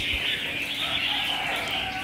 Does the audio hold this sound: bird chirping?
yes